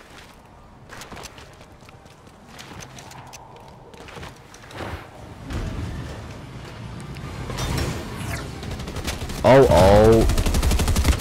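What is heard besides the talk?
Red Eye weapon gunfire in a video game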